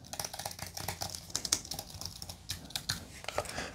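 Soft, rapid clatter of an Apple Magic Keyboard with Touch ID being typed on, close by, with an uneven rhythm and no voices.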